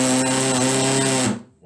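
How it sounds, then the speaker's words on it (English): A handheld impact driver sinks a screw with a loud, rapid buzzing hammer-rattle and a steady motor whine that runs about a second and a quarter before cutting off abruptly. "that sound is the impact. That's why it's called an impact driver."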